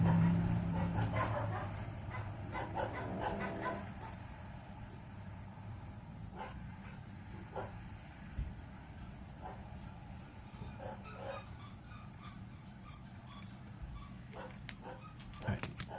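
Dogs bark and whimper somewhere nearby in scattered, fairly faint bursts over steady background noise, with muffled talk now and then.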